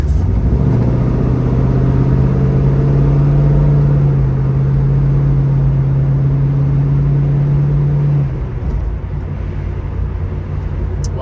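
A 1971 Chevrolet Camaro cruising down the road, heard from inside: a loud, steady engine drone and road rumble with a constant tone that drops slightly near the end, with no talk.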